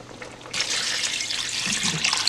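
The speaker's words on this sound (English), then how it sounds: "And I'm going to pour some water" Water is poured into a cooking pot of Liberian pepper soup with meat, starting abruptly after half a second as a steady close splashing rush that continues to the end, no talk.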